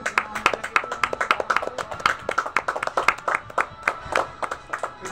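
A group of people claps their hands in a quick, uneven patter of sharp, close-up claps that keeps going throughout, with little else underneath.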